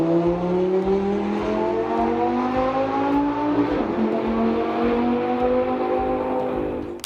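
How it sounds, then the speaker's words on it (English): A Lamborghini LP 564 V10 engine revs hard and close, its harmonic whine climbing steadily in pitch into a high scream, loud and unbroken for about seven seconds with no talk. "At idle, the V10 produced a deep, rumbling growl that turned heads. As the revs climbed, it unleashed a high-pitched scream"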